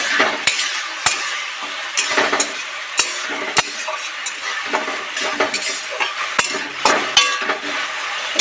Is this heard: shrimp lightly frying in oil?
yes